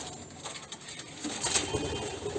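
Manisa Azmanı and Ottoman Hünkâri pigeons in a coop coo and shuffle, a soft murmur of bird sounds with faint rustling, close by.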